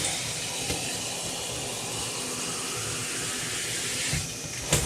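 Tap water runs steadily into a sink to rinse something cold, a continuous broadband hiss held close and even throughout, with a faint clunk near the end.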